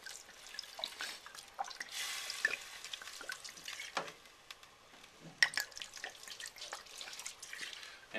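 Red Sangiovese wine being poured into a beef burgundy sauce, faint liquid splashing and dripping with small bubbling pops, quiet and irregular.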